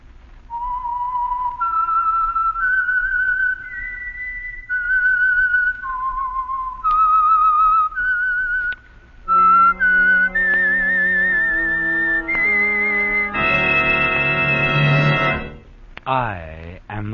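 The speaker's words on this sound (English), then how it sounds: "the signal to listen for is this whistle that identifies the signal oil program" A lone whistled radio show signal tune of sustained, clear notes that then gives way to a fuller orchestral phrase, loud and close.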